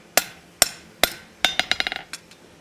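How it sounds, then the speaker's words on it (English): A hammer planishes the taper of a forged latch on an anvil: four spaced ringing blows, then a quicker run of lighter taps that fades out, bright metallic strikes alone with no talk. "Now we're going to just spend time smoothing up that taper. This is down in the planishing heat."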